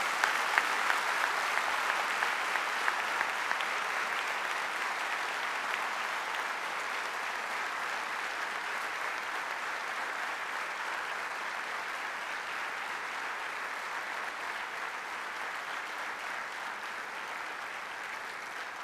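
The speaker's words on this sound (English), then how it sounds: "let us give our parents, who have done everything for us, a massive round of applause" Graduation convocation audience applauding their parents, a sustained round of dense clapping from a large crowd that holds steady and slowly fades, with no talk over it.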